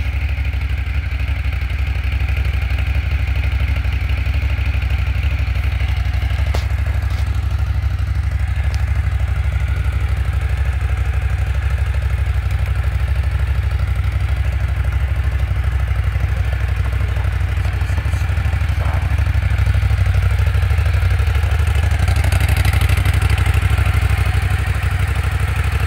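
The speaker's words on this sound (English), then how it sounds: "Ducati 1200." Ducati 1200 S motorcycle idling nearby, a loud steady low rumble with mechanical clatter holding even throughout, no voices over it.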